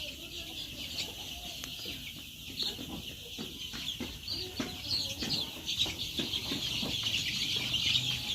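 A flock of Egyptian Fayoumi chickens clucks steadily at a poultry farm in Tangail, with overlapping calls from several birds at close to medium range and no talking.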